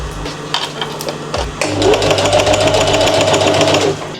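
A sewing machine stitches cargo pants fabric up close, a steady mechanical whir that picks up and runs continuously after a few brief start-stop bursts.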